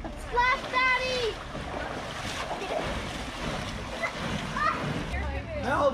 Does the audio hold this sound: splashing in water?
yes